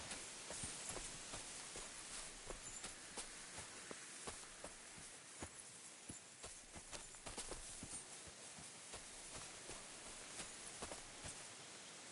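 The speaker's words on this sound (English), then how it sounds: "Huh. A horse? What's it doing here in the woods?" Steady clip-clop of hooves walking at an even pace over a soft hiss of background noise, quiet and continuous, from a horse in the woods in a video game.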